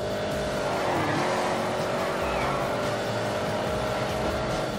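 A car accelerating at full throttle in The Grand Tour Game, a loud sustained engine roar rising in pitch with a whine of tires, close and continuous.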